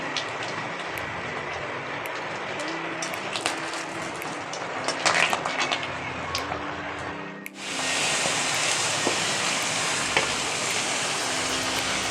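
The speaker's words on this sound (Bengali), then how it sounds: "এবার ওই তেলের পরে দুটো তেজপাতা আর দুটো শুকনো লঙ্কা ছিঁড়ে দিয়ে দিচ্ছি" Bay leaves and torn dried red chilies dropped into hot oil with lightly browned cumin, a steady close sizzle that swells sharply partway through and stays loud and hissing to the end, with no talking.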